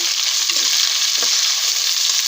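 Capsicum fries for vangibath in a pan, a steady close sizzle with soft stirring scrapes throughout, no voices.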